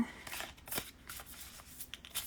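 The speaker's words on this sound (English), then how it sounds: "Give this a shuffle. So many shuffles." Deck of cartomancy cards being shuffled by hand, a soft papery riffle and flutter running steadily for a couple of seconds, close and fairly quiet with no talk over it.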